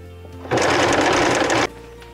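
A sewing machine top stitches across the base of a fabric pouch, one loud, close, even burst of rapid stitching lasting just over a second, with quiet before and after.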